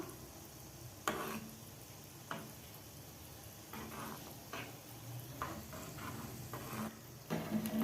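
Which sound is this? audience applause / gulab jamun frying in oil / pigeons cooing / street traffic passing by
gulab jamun frying in oil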